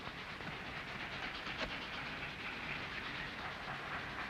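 A train rolls past in a 1951 Civil War-era film, heard as a steady broadband rumble and hiss with a faint rhythmic clatter of cars throughout, fairly distant and continuous, with no voices.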